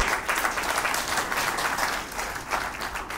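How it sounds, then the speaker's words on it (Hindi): A crowd at an OPESH GROUP stage event claps together in a sustained, moderately loud wave of applause that swells and eases slightly over its few seconds. "पूरा तालियां नहीं बजा पा रहे तो"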